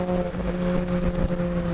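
A track-prepped Mini Cooper JCW drones steadily on a race track, its engine holding a loud, even tone from inside the cabin with rhythmic bumps and road noise beneath, no talk.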